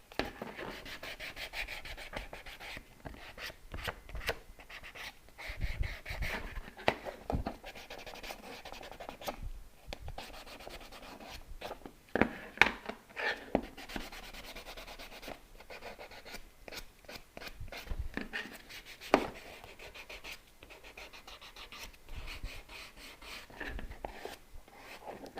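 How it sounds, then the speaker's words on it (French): Steady hand sanding on the toe of a shoe, a continuous scratchy rubbing with back-and-forth strokes and occasional sharper scrapes, close and fairly loud throughout. "on prend le petit truc et on ponce à la main"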